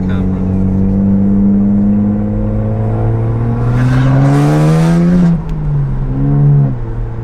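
A straight-piped BMW 135i coupe engine drones loud and steady while driving gently, its pitch holding low then climbing and settling through a light throttle change, with a voice speaking over it inside the car.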